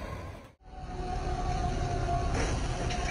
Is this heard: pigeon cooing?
no